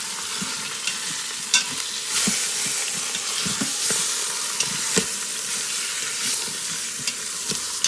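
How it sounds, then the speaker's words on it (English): Food searing in an Instant Pot for a keto meal, giving a steady, loud sizzle with occasional clicks and scrapes of stirring, close and continuous, with no talking. "We're gonna sear that for 2 minutes on that side"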